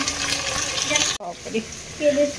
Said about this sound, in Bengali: পেঁয়াজ আর রসুনটা দেখো ভাজা হয়ে এসছে, তো টমেটোটা দিয়ে নিলাম।